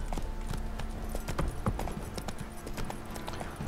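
Galloping hooves of a horse in the video game The Witcher 3 pound in a fast, continuous rhythm of sharp, close clip-clops over a steady background hum, with no voices.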